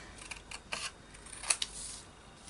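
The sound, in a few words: cutting a paper napkin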